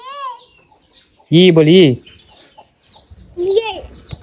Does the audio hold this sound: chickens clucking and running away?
yes